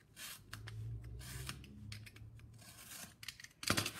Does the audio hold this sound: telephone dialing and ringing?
no